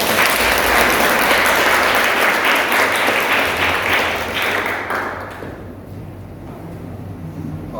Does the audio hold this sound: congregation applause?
yes